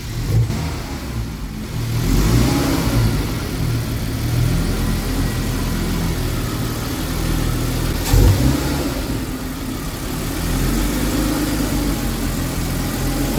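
A car engine cranks and fires up after a sensor replacement, then runs and revs unevenly at close range, settling toward idle with a brief knock midway, no one speaking.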